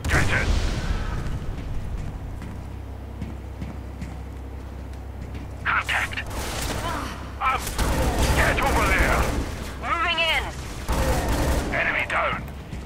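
Gunfire in the video game Scourge Outbreak, bursts of shots scattered through a noisy battle scene with a low rumbling bed, broken by speech-like game voices and effects in the second half.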